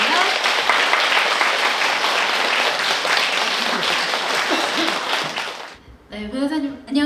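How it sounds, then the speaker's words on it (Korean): An audience at a morning Korean traditional music concert applauds loudly and densely for about six seconds, then the clapping fades and people speak. "큰 박수 보내주세요."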